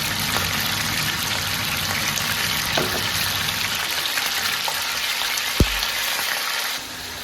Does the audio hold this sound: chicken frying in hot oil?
yes